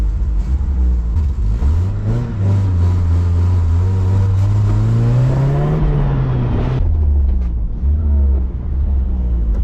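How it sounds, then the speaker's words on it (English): A Toyota AE86 with a sticking carburetor bowl running after a roll start, a loud close engine drone that climbs and falls in pitch as it revs, then drops back to a rough idle. "Well, it died and I just roll started it."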